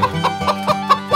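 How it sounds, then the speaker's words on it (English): A toy rooster in a small-world farm diorama sounds off with a few short, loud clucking crow bursts spaced through a brief moment, close and alone. "Rooster."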